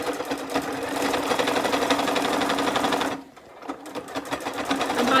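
Close, loud sewing machine stitching cotton fat-quarter fabric for an accessory roll, a steady rapid rattle that stops briefly near the end for a reverse stitch, then resumes.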